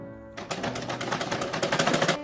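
Sewing machine stitching a school uniform skirt, the needle running in a fast, steady train of rapid clicks that starts after a brief pause and continues close and loud to the end.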